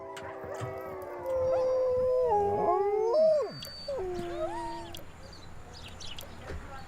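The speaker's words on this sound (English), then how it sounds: "The Greenland dogs here are the living inheritors of the ancient wolf's genome." Several Greenland dogs howl together in long, wavering rising and falling tones, loud and close, with some yips and background chatter trailing off.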